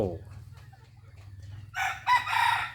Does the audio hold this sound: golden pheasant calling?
yes